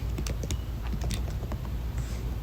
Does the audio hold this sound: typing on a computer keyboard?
yes